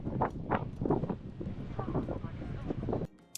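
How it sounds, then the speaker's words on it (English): Blustery wind on a whale-watching boat deck off Reykjavik, Iceland, buffets the microphone in a steady low rumble, with a voice talking over it until the gusts cut off abruptly near the end. "It's a little bit windy out here."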